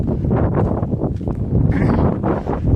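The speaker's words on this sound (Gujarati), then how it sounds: "આજ તો પવન હે આમથી" Loud wind buffets the microphone in a constant rumbling roar, with some rustling mixed in.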